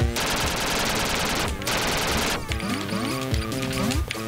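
Minigun fire in the video game Duck Game, a loud continuous rapid burst of shots that cuts out briefly midway, then resumes, giving way to scattered impacts and electronic game sounds.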